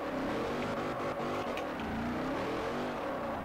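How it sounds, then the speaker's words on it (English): A 700+ horsepower Dodge drifting in the video game Forza Horizon, the engine holding a loud, sustained high-revving whine with wavering pitch as it slides, steady and close. "I don't know why we're drifting, but we are."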